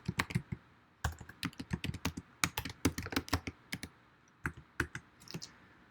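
Computer keys pressed in quick irregular bursts while running code in RMarkdown, crisp close clicks with short pauses between clusters, no voices.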